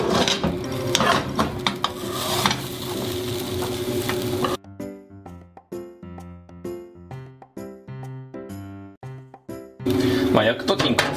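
Low-calorie mochi frying in olive oil in a pan: steady sizzling with clinking of pans and utensils, broken midway by a stretch of plucked background music, then the sizzle returns.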